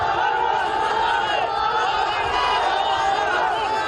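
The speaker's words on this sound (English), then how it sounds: "The newly freed men streamed out of the gates of Sana's central prison, many cheering and pausing to kneel and kiss the ground" A large crowd of freed prisoners streams out of Sana'a central prison, their continuous cheering and shouting voices blending into one dense, steady roar.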